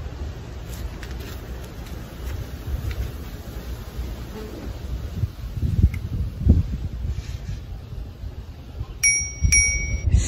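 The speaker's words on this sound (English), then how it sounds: "So next I'm just gonna add this blue bell to my bike." A blue bell on a BMX bike rings twice in quick bright dings near the end, after several seconds of outdoor wind noise and rustling.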